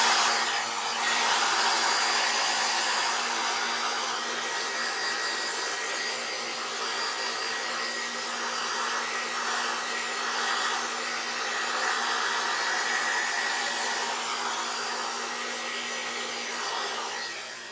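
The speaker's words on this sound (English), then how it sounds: "you can pull out the blow dryer. That's what I'm going to do for the sake of the video." A blow dryer gives a steady, loud whoosh of air for the whole stretch, drying paint on a canvas during a painting lesson, with no talking over it.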